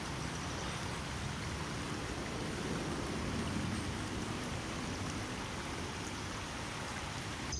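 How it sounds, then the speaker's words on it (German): Two small waterfalls in the second Laggraben near Glattfelden give a faint, steady rush of falling water that carries on unbroken, with no voices. "Das ist der zweite Lagraben bei Glattfelden, wo die zwei kleinen Wasserfälle sind."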